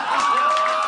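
A live audience at a comedy podcast taping cheers and whoops in one brief, loud burst of crowd noise.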